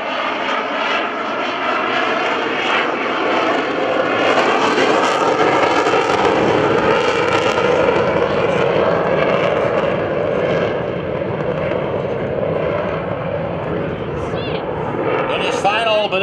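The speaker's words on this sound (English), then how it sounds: "Listen for the burner." An F/A-18C Hornet jet roars past at an airshow with its afterburner lit, a loud, sustained broadband thunder that swells and holds for many seconds while an announcer speaks over it.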